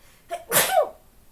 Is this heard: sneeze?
yes